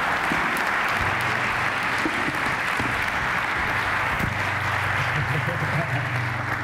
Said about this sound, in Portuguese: Uma salva de palmas, que isto merece.